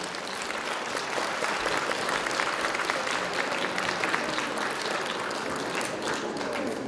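Sustained applause from a concert audience welcoming a trumpeter to the stage, dense and even clapping that stays loud and steady throughout with no speech over it.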